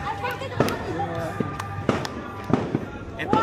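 New Year's Eve fireworks going off at home, with sharp bangs and crackles that come irregularly, some close and loud. Voices shout and chatter throughout.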